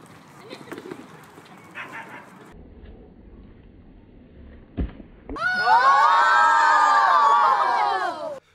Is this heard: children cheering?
yes